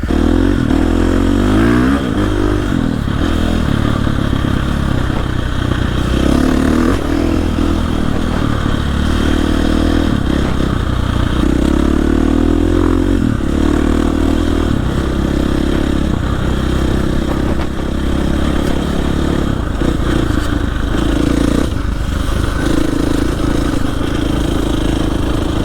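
A dirt bike rides a trail in central Maine, its engine loud and continuous throughout, rising and falling in repeated revving bursts with some clatter as the front end lifts.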